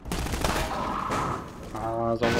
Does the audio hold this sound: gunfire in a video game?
yes